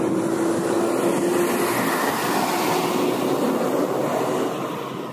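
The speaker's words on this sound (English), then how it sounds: "Here comes a big truck." A big truck passing on a road outside on a windy day, a broad, steady rumbling roar that holds loud and close before beginning to fade away at the end.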